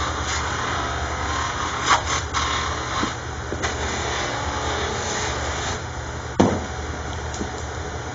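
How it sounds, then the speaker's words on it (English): A buffing wheel polishes a Cadillac car mirror with a constant motorized hum and whine, steady throughout, with a few brief scuffs and a sharper bump near the end. "So the buffing takes about 5 minutes to get this up to a really good shine."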